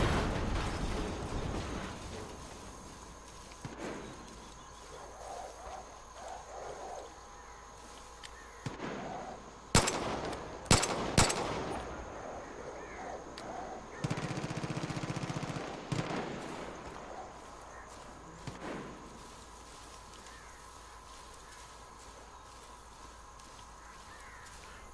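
Sporadic gunfire in the video game Far Cry 5: a few sharp, loud bursts cluster around the middle, set against a steady game ambience of wind and low rumble.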